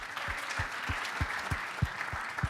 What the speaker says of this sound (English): I think Mark got the biggest applause.